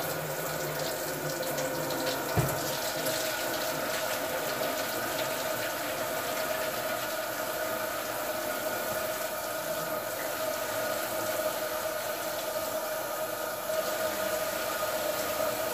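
Tap water runs steadily and close by into a kitchen sink as it fills for dishwater, a continuous splashing rush with one brief clunk early on.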